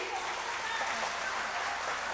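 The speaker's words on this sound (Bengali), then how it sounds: "দেখি মায়েদের করতালির আওয়াজটা ভালো আছে কিনা একটু দেখে নি" An audience of women clapping together, producing a dense, even patter of applause that holds steady and fairly loud the whole time.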